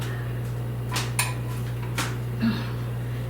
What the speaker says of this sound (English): So let me get a scoop of this out.